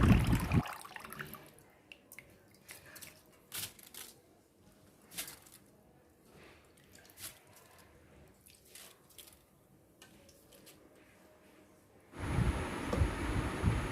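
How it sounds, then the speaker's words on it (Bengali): Water drains from soaked gobindobhog rice in scattered drips and trickles, faint and uneven, before a louder, fuller rush of pouring water at the end. "এবার এটাকে জল ঝরিয়ে নেব।"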